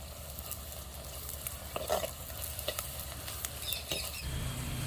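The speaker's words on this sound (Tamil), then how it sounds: "வெங்காயம் வதங்கிடுச்சு" Onions frying with crushed garlic and curry leaves in a pan, a soft, continuous sizzle broken by a few scraping stirs and light taps.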